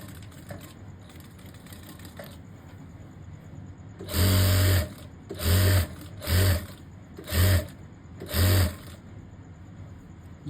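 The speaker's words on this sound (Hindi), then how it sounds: "यहाँ से हमने सिलाई शुरू करनी है, एक टाका छोड़ के।" A sewing machine stitches a boy's cord set in five short loud bursts of rapid whirring, separated by brief pauses, after a quiet stretch at the start.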